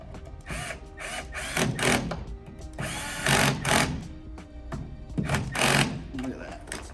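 A small power driver tightens two little screws to lock a golf simulator screen mount in place, sounding in short whirring bursts separated by pauses, with a voice talking alongside.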